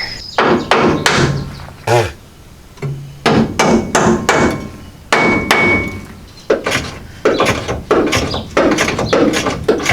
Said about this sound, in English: I gotta get a hammer and tap that bolt out of there.